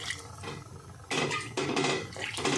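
Warm water pours into a pan of potato and paneer omelette curry in uneven splashing bursts, loud and close, with brief pauses between pours.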